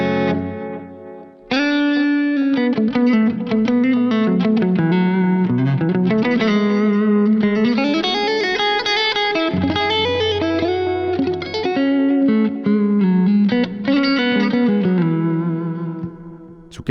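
A clean electric guitar tone from a Line 6 Helix modeled Fender Princeton amp plays a melodic solo line with delay repeats trailing each note, effects-laden and sustained, without any talking.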